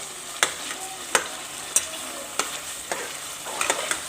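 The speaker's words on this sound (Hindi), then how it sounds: "हमारा जो कीमा है वो अच्छे तरीके से भुन रहा है। अब इसको अच्छे तरीके से आपने भूनना है।" Keema (minced meat) with whole spices fries in a pan, a soft steady sizzle broken by sharp scraping knocks of a spoon stirring about every half second to second, close and alone.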